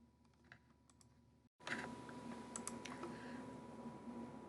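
A command is typed on a computer keyboard, with quiet sparse clicks at first, then a brief silence and a denser run of close keystrokes over a faint steady hum.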